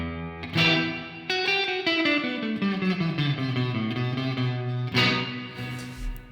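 Electric guitar notes run through iZotope Neoverb reverb with about 20 ms of pre-delay. A sustained, descending melodic line rings out with a distorted, chorused tone, then a fresh strum near the end, all wrapped in a lush reverberant wash.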